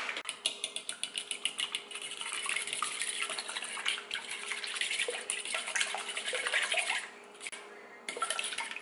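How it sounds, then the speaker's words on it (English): Tap water runs steadily into a kitchen sink while hands are rinsed during meal prep, a close, bright splashing rush with small fluctuations, briefly dipping and cutting out near the end before resuming. "I'm gonna rinse my hands."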